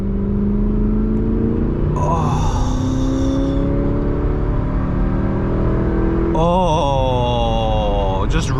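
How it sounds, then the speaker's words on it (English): Gen 1 Audi R8 V8 engine revving hard toward its high redline, loud rising and falling sweeps close by with two strong rev bursts, under a steady engine drone. "just ringing that engine"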